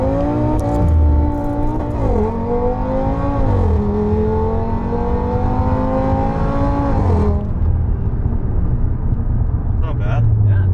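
A Volkswagen Golf R engine revs loud and close, its pitch rising and falling in sustained pulls for several seconds before dropping away to a quieter rumble.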